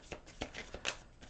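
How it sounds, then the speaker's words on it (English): Tarot cards shuffled by hand for a reading, a quick run of soft papery riffles and slides with a few crisp snaps, close and quiet with no talking. "Okay, one more little shuffle here for you."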